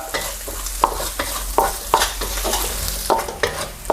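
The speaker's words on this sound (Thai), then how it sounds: "ใส่หอมแดงสับลงไป 2 ช้อนโต๊ะ เจียวให้หอมเลยครับ" Chopped shallots sizzle steadily in oil in a pan while a utensil scrapes and stirs with repeated quick strokes, close and clear.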